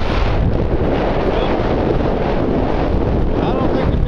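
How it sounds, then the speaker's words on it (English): Gusting wind buffets the microphone outdoors on a cold winter day with light snow falling. The rumble is loud and continuous through the whole stretch, and no one talks. "Some breeze about 20 to 30 gusting."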